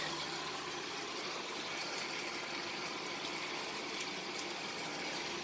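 Water running steadily while a mixer jar is rinsed, an even, unbroken rushing wash that stays constant throughout at low level, with no talking.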